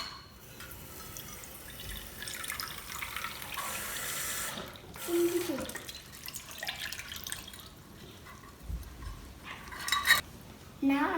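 A kitchen tap runs water into a measuring cup for no-yeast homemade pizza dough, a steady splashing stream with brief pauses, dripping and light clinks of the cup.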